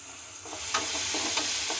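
Masala spices sizzle softly in a pan, a low constant frying hiss with a few light stirring scrapes near the middle and end, close by and without speech.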